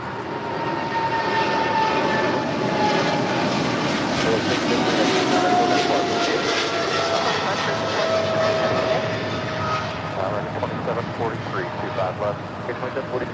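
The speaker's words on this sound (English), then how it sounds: "This is Polar Air Cargo Flight 678 departing to Cincinnati on a 777 freighter." Polar Air Cargo Boeing 777 freighter departing for Cincinnati, a distant jet engine roar swelling then slowly fading, with people talking over it.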